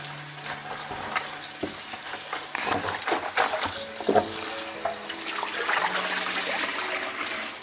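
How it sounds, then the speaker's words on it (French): Running tap water rinses Chinese cabbage for kimchi, a steady broadband splashing wash with clatter and handling noises throughout, fairly close and loud, no talking. "on fait couler de l'eau, on va le rincer"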